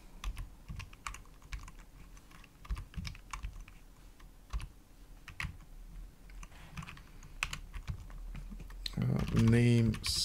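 Keys clatter on a computer keyboard in steady, uneven bursts of typing, close and fairly quiet, while a file is edited in vim, with a louder burst of other sound at the very end.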